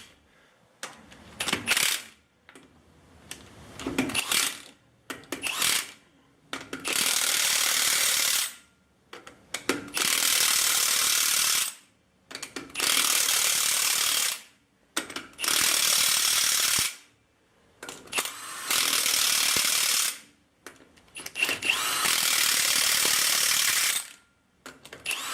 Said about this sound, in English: whether you're using a pneumatic impact gun or this electric one